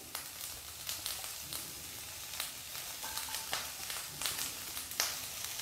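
Five garlic cloves sizzling as they drop into a pan of softened, sweating onions, a steady close crackle of frying with small sharp pops scattered throughout.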